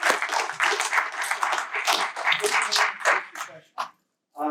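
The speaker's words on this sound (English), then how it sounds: "Big applause for Andrew" Audience clapping after a question at an indie filmmaking panel at Los Angeles Comic Con, a dense burst of applause with voices mixed in that tapers off and stops abruptly near the end.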